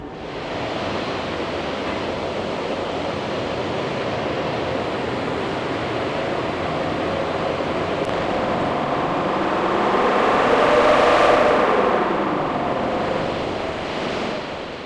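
A Land Rover 300 Tdi diesel engine in a 110 runs hard on a dyno, a loud, steady broadband roar that swells and peaks toward the end before easing slightly.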